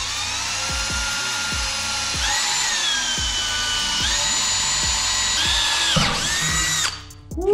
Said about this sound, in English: And then we'll just drill some holes.